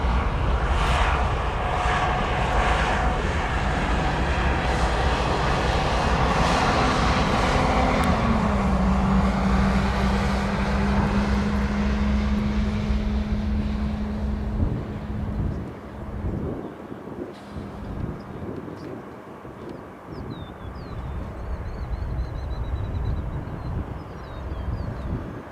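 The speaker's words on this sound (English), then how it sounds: "See if we can get a visual on our Lufthansa Airbus A340." A Lufthansa Airbus A340 airliner passes over O'Hare Airport, its engines a loud, steady roar with a sustained drone that fades out over the clip, mixed with a little wind noise.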